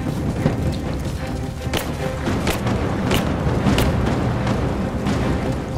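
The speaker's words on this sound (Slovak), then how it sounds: "Moment, sa niekto strieľa zvonku, alebo?" Gunfire and heavy impacts in the video game Rise of the Tomb Raider, a dense, continuous din with repeated sharp cracks and booming thuds over a roaring background.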